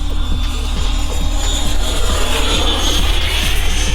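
A Flite Test Zephyr RC model airplane's electric motor whines steadily as it makes a low pass, a high buzzing drone with a rising and falling pitch, loud and continuous throughout.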